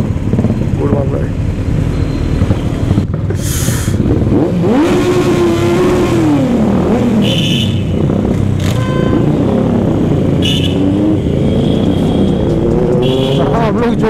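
A group of motorcycles rev loudly through a tunnel, engines rising and falling in pitch with echoing roars and sharp throttle blips, close and continuous, with voices mixed in underneath.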